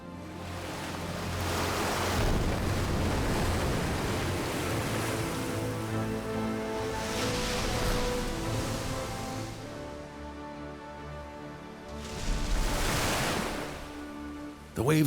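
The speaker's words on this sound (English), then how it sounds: "The waves are powerful enough to destroy everything in their path until they hit the shore." Powerful ocean waves driven by strong winds surge and crash in broad swells, a loud roaring wash that rises and falls in several waves with wind noise buffeting the microphone.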